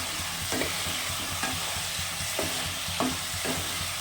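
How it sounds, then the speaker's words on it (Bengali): Chital fish curry with new potatoes is sautéed in a pan, giving a steady close sizzle with rhythmic scraping strokes of a spoon stirring every second or so. "কষানোটা কত সুন্দর হচ্ছে খুব ভালো করে কষাতে হয়"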